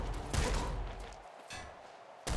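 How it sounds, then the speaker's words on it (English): A blood bullet shotgun fires in the Nuclear Throne video game, a few faint blasts with bursts of spread noise spaced out over a couple of seconds, quiet overall with no talking. "Blood bullet shotgun"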